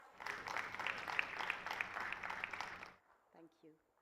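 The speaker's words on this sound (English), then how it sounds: "Let's welcome her with a round of applause." At a formal government investment signing event in Odisha, an audience claps for about three seconds, moderately loud, then the applause stops abruptly and a voice speaks briefly.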